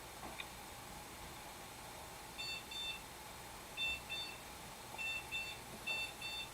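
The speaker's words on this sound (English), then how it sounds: "She's in the office and you're beeping her." Faint electronic beeps come in short paired bursts, repeating several times over a low background hum, with no talking.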